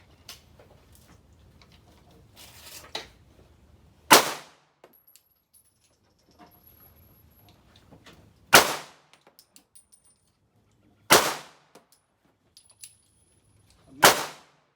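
A pistol is fired one-handed with the non-primary hand at a target during a warmup drill: four sharp, loud, isolated shots spaced a few seconds apart, with quiet handling noises and faint clinks between them.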